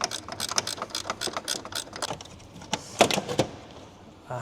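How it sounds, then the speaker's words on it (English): On a bent front end of a Porsche 911 Turbo, a ratchet spins off headlight nuts with quick, close clicking runs, a few sharper metallic knocks near the end and no talk. "I'm going to have to remove these nuts in their entirety"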